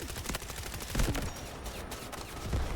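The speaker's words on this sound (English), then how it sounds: "showcase the absurdity of this weapon by jumping and killing guys whilst hip firing" Rapid automatic gunfire from an SR3M submachine gun fired from the hip in the video game Delta Force, a dense, fast rattle of shots running continuously at moderate volume.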